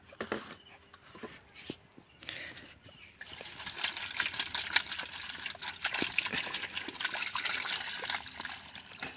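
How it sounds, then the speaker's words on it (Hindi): Okra rinsed under a running kitchen tap before being cut, a steady splashing trickle of water that grows fuller and louder after a brief pause, with occasional knocks and handling sounds nearby. "तो ये भिंडी है, इसको पहले हम धो लेते हैं काटने से पहले।"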